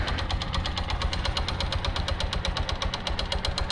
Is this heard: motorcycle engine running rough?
yes